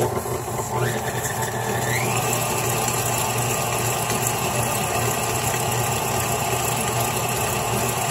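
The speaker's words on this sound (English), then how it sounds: "And I realize the mixer is loud, so I'll apologize up front." Electric hand mixer whisking a homemade body scrub containing vitamin E oil, a steady loud motor drone with a whirring pitch that climbs in the first two seconds, running continuously without talk.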